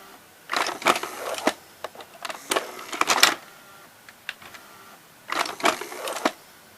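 Sharp VC-7854U VCR with its loading motor running, giving bursts of mechanical whirring and clicking in several groups separated by short pauses, close and fairly loud, with no talk.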